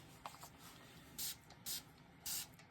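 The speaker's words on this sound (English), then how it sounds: "I know I'm preemptively spraying this alcohol" Isopropyl alcohol sprayed from a pump bottle onto epoxy resin, three short close hissing bursts spaced about half a second apart, faint and clean against quiet background.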